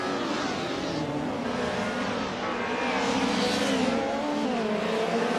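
A 1990 Mercedes 190 Evo 2 in a racing game, its engine revving steadily and loudly with shifting pitch, blended with other race cars around it, no talking.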